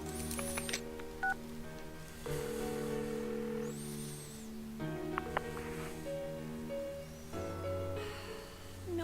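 Phone dialing tones from a call placed in the video game Persona 4, several short bursts of keypad beeps spread through the passage, with game music continuing underneath.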